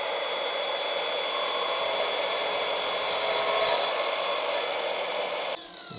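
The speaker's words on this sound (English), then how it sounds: "I'm going to cut it down the middle and then try and join one full piece with one half piece" A hand saw cuts through a wooden ceiling cladding panel for a campervan. The rasping strokes are steady and close, getting louder in the middle, then stop abruptly near the end.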